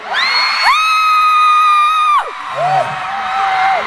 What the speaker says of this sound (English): I want to hear you scream!